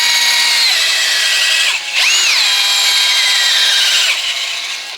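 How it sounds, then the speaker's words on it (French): A power drill spins sandpaper to smooth small wooden pieces for a wooden tree, giving a loud, continuous high whine with a brief dip and pitch sweep midway, alone without talk. "je le mets sur la perceuse, ça va plus vite"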